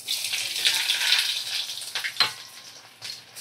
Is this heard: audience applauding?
no